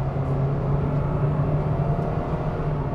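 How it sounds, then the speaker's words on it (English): A 2022 Perodua Myvi facelift cruising at 110 km/h gives a steady low engine drone at under 1500 rpm, blended with continuous broadband road and tyre noise inside the cabin, with no talk over it. "the engine is only revving at below 1500 RPM, and when you take it to 110 like I am now, just"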